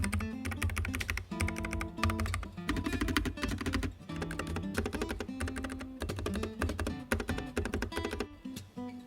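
Fast, steady typing on a NuPhy Air60 low-profile mechanical keyboard, crisp close key clicks and solid bottoming-out taps in a dense continuous stream with short pauses, no voices over it.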